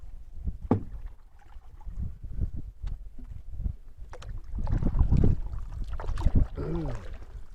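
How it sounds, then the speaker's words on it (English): Wind gusting around a canoe paddled upstream into a headwind on a Temagami lake trip, heard as irregular buffeting microphone rumble with occasional paddle and water splashes, fairly close and unsteady. "so we're going upstream into the wind"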